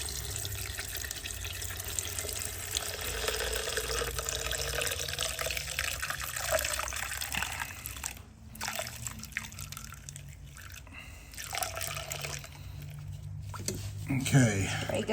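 Fuel pours steadily out of a fuel water separator into a drip pan, a continuous liquid splashing and trickling that runs throughout, briefly dipping near the middle, with someone talking over it.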